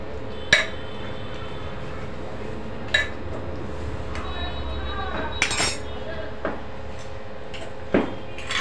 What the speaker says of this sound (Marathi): सगळं मीठ मिक्स करून घेणार आहोत आणि कुकरचं झाकण लावून घेणार आहोत।